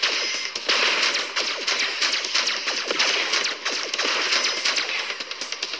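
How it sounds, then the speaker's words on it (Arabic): Rapid bursts of pistol gunshots ring out in a mobile video game, a dense run of sharp repeated cracks that stays fairly steady in loudness with no talk over it. "بصي باخد مسدس اضربهم بيه."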